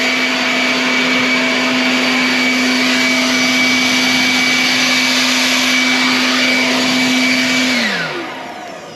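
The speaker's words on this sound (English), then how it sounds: "I got my blower out and my cheap little blower" A cheap little leaf blower blowing air onto a burning tree stump outdoors, droning as a loud, steady whine close by, then spinning down as it shuts off near the end.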